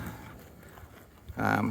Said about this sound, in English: So this cow right in front of us is Kapiolani Cowgirl, CPL.